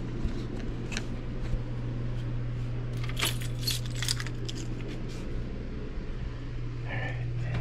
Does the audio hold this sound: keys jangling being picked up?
yes